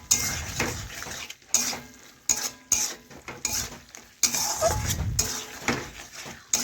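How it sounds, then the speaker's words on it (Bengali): Spice paste for a broccoli dish being stirred and fried in a pan, bursts of sizzling and spatula scrapes against metal coming in uneven waves with short pauses between. "মশলা বেশ কিছুক্ষণ ধরে কষে নিয়ে মশলার কাঁচা গন্ধ যাতে চলে যায়, এই জন্য একটু সময় নিয়ে কষে নিতে হবে"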